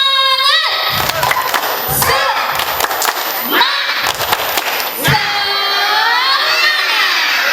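A crowd of parents at a children's school farewell performance shouts a chant in unison, punctuated by rhythmic claps and thumps, loud and close with overlapping voices.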